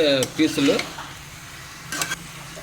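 A ladle stirs chicken curry masala with meat pieces in a pot, giving a few short scraping clinks and soft sizzle in two brief bursts, close by, with a quiet gap between them.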